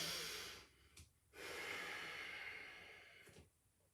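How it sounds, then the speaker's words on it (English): A slow, deep breath in and out during a yoga flow, close and soft, with a long inhale followed by a long exhale and a short pause between. "Take a deep breath."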